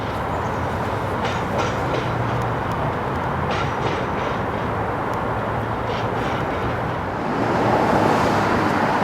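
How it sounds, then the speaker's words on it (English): An Edmonton tram rumbles steadily past at close range while crossing a river bridge, a constant heavy roar with faint rhythmic rattling, growing slightly louder toward the end. "Edmonton tram car spanning"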